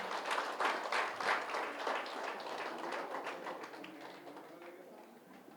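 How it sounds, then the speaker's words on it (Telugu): Applause for the chief guests at a pyramid meditation hall opening ceremony in Bommuru, a crowd clapping steadily and fairly loud before slowly thinning toward the end. "మరి ముఖ్య అతిథులకు ఒకసారి గట్టిగా తప్పట్లు కొడదామండి."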